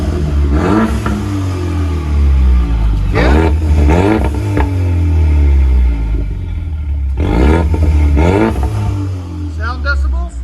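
A 2016 Ford Mustang EcoBoost turbo with dual exhaust, X-pipe and straight pipes revs hard in repeated bursts, roaring up and falling back to a rumbling idle between them, loud and close with some voices nearby.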